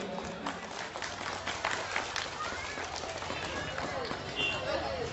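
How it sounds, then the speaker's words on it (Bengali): Dense, continuous applause from an audience at a theatre performance, moderately loud and sustained, with a voice speaking over the clapping. "আপনারা একটু করতালি দেবেন।"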